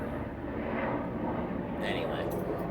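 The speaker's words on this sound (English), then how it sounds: "Sorry about that, loud ass helicopter." A loud helicopter passing overhead produces a steady broadband rumble and whoosh throughout, with a voice speaking under the noise.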